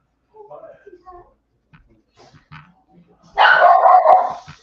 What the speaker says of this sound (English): I hear the crazy dog.